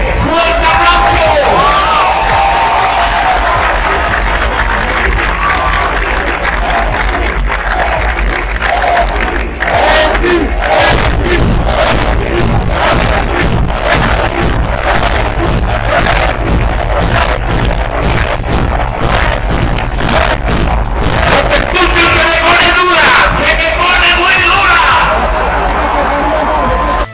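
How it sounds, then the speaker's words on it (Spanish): A large festival crowd at a tribute concert roars, cheers and shouts in a dense, loud, continuous wall of noise, with some whoops and applause mixed in. "Quiero un fuerte aplauso para la producción"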